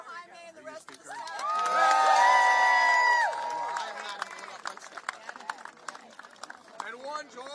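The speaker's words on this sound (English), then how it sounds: "can we give a big round of applause for Jaime and the rest of the staff?" A crowd at a Texas Democrats news conference in Boston breaks into applause and cheering, with voices shouting loudly for a couple of seconds and then settling into scattered claps and chatter.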